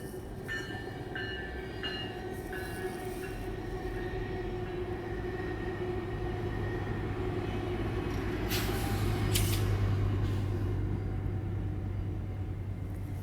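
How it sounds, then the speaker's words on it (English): A train rumbles past outside, a steady low drone with clanking and a brief hiss that swells slightly near the end, heard alone without talk. "Here's the train again."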